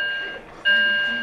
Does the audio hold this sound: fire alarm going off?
yes